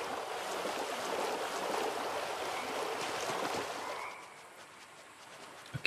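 Wolf paddling through a river in the video game Lost Ember: steady rushing, splashing water for about four seconds, then the sound thins to a quieter trickle and ambient hush near the end.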